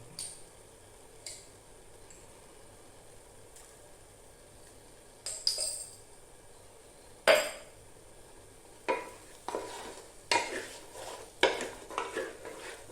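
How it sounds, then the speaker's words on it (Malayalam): A spoon scrapes and clinks against a pan while spices such as garam masala and pepper are mixed in with a faint sizzle, with sparse taps at first and then busier stirring strokes. "വീണ്ടും മിക്സ് ചെയ്യുക."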